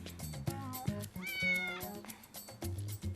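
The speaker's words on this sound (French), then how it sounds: "Pourquoi t'as pris mon chat?" A cat meowing in a French feature film, several drawn-out meows and cries rising and falling in pitch, fairly close, mixed with background noise and short thumps.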